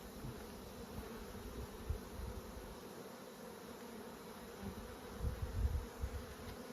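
Soft, continuous buzzing of many honeybees close by at a nucleus hive, a low humming drone with faint thumps and handling noise underneath.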